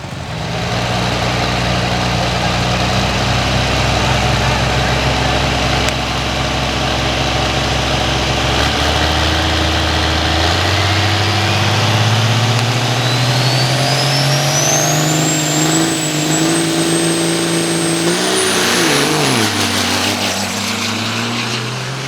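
A nitrous-fed dirt drag racing car engine screams at full throttle, loud and sustained for the whole run, its pitch climbing steadily through the pass as the car accelerates, with crowd and track noise beneath.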